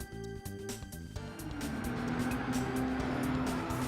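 The Nissan GT-R LM Nismo race car in Gran Turismo 7, its engine revving and rising in pitch into a steady, loud, close drone after a short gear-change pause.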